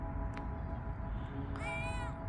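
A cat wearing a leash, found in a parking lot flowerbed, gives one clear, fairly close meow near the end over steady low background hum, with a faint brief chirp earlier.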